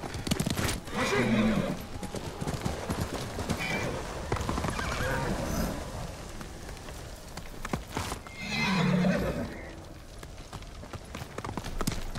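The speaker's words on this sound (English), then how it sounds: "Horse! Where are you?" A horse in the game Ghost of Tsushima whinnies loudly twice, with steady clip-clop hoofbeats from a gallop in between, close and prominent, with some game voice mixed in.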